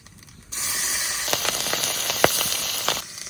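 Black cumin and slit green chilies dropped into hot oil, a sudden loud sizzle bursting in and holding steady with crackling pops, then cutting off abruptly.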